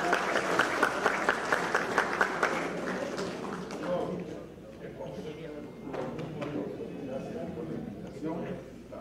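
Audience at a cultural event in Peru's Congress applauding to welcome a congressman, a rhythmic burst of clapping that fades after a few seconds into crowd murmur and voices talking.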